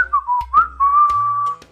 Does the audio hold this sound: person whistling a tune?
yes